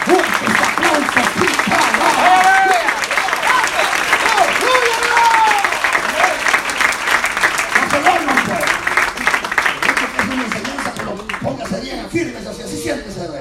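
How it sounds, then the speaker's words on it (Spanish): A church congregation applauds loudly and steadily after a sermon by the pastor, with voices calling out over the clapping before it thins toward the end. "El fuerte se aplauso"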